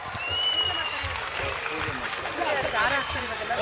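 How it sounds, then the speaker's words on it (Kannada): An audience gives loud, sustained clapping for Navadurga dancers at a school cultural programme, dense applause filling the space with a voice speaking over it. "ಬರ್ಲಿ ಅವ್ರಿಗೆ ಮತ್ತೊಮ್ಮೆ ಜೋರಾದ ಚಪ್ಪಾಳೆ."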